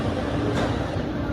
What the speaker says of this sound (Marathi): ही बघा ट्रेन आमची चालली